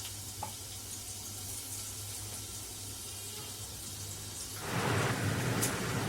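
Garlic sizzling in hot oil in a pan for an Agri-style prawn masala, a steady crackling fry that swells louder near the end.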